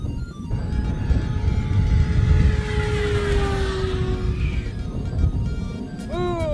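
A radio-controlled P-51D Mustang model airplane, a Tower Hobbies Mk II warbird on a 4S battery, passes overhead with a steady electric motor and prop whine that sweeps down in pitch as it flies by, loud and close throughout.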